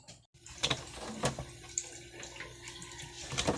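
Water pours and splashes as it is drained off takway, the taro stalks being cooked into adobo, a close, continuous trickling with a few clunks, heard alone without speech.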